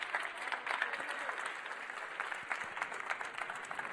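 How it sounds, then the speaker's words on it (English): An audience applauds the semi-final teams at a schools racing car competition final, giving a steady, fairly faint wash of many hands clapping together. "Big round of applause, please, for our semi-final teams."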